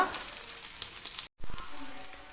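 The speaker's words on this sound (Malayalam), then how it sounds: "ഇതിൻ്റെ ഒരു കളറെല്ലാം ഒന്ന് മാറി വരുന്നത് വരെ ഒന്ന് റോസ്റ്റ് ചെയ്ത് കൊടുക്കുക." Small onions roast in a pan of oil for fish curry, giving a steady, close sizzle and crackle that runs throughout with only a momentary break.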